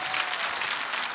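An audience applauds in a brief, dense burst of clapping, steady and fairly loud throughout.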